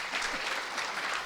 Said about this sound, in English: let's once again applaud the keynote speaker